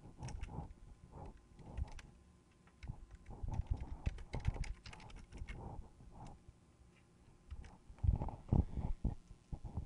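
Keys clatter on a computer keyboard in bursts of quick, uneven taps, with short pauses between runs and a denser flurry near the end, close and fairly quiet.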